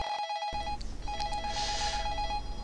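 A phone in a supposedly haunted apartment in a horror game gives a steady electronic ringing tone, briefly interrupted near the start, moderately quiet over a low hum, with no one talking.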